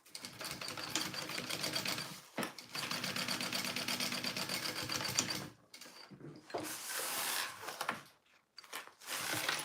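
A sewing machine basts along fabric edges in several long runs of rapid, even stitching, stopping briefly between passes, close and clear with no talking.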